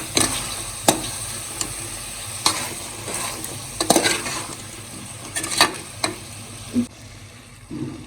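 Goat head curry with homemade masala and kasuri methi is stirred in a pot, a spoon scraping and knocking against the metal at irregular moments over a steady, soft sizzle.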